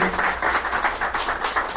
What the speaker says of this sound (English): Can you give her all a round of applause, please?